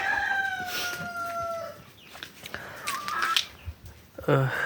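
Chickens cluck and a rooster crows nearby, with a person speaking briefly among the calls.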